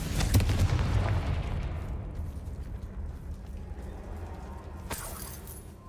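A Confringo fire spell detonates in Hogwarts Legacy, a loud low boom at the start that rolls off into a long rumbling decay, with a sharp crackling burst near the end.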